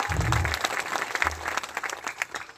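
A crowd breaks into loud, dense applause that carries on steadily, with a brief low voice or hum underneath at times.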